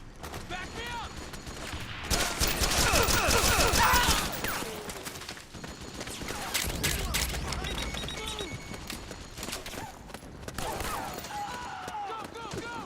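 Soldiers firing guns in the PS3 game Metal Gear Solid 4: Guns of the Patriots, rapid bursts of gunfire and a heavy fusillade with shouted voices mixed in amid battle noise.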